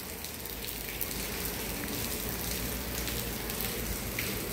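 Steady rain falls in a soft, even hiss of dense patter with occasional sharper drops, with no voices present.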